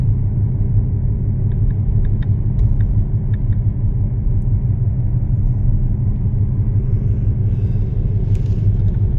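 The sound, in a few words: car being driven during driving lesson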